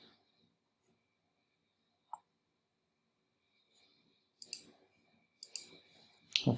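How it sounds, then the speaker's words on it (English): Computer mouse clicks sound faint and sparse in a quiet room: a single sharp click, then a few clustered clicks and light taps near the end, all close by with no talking. "I'm just going to click yes, see what we get."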